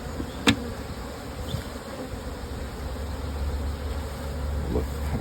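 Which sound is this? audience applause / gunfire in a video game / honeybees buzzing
honeybees buzzing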